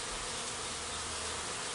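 Honey bees swarm around a hive trap beside a five-frame nuc, a dense, steady close-up buzzing that fills the space without pause.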